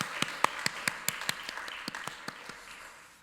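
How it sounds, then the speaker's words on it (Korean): Sparse applause from a church congregation during a special worship service testimony, roughly a dozen separate claps spread unevenly across a few seconds, moderately close and fading toward the end. "우리 하나님께 영광의 박수 올려드립니다"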